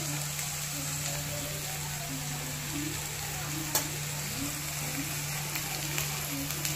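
Onion and grated coconut sauté on a low flame with a constant crackling sizzle and occasional spatula stirs, close by under a low steady hum, with no voices.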